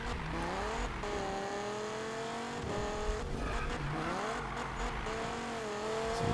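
A Dodge Viper race car in Need for Speed on PS4 accelerates hard, its engine revving in rising and falling gear-shift sweeps, loud and continuous with tire noise.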